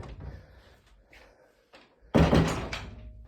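A wooden wardrobe door in a house shuts with a loud, sharp thud near the end, after quieter handling sounds and shuffling.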